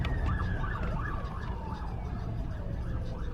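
An ambulance siren wails past outdoors, its repeating up-down sweep sliding steadily lower in pitch as it moves by, loud over a rumbling traffic background.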